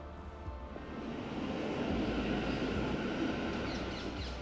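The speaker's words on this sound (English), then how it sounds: "Train." A train passes beside a weedy river where barbel are being fished, its broad low rumble swelling in after a second and holding steady and fairly loud to the end, with no voices.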